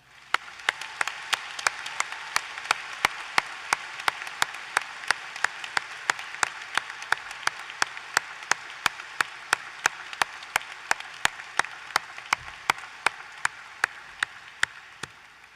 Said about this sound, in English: so please help me honor Cole and his family as we recognize today his graduation from Minot State University with a round of applause for him